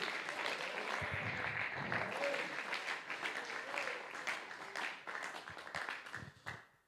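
A church congregation applauds at a men's congress, steady dense clapping filling the room for several seconds before thinning out at the end, with faint voices mixed underneath.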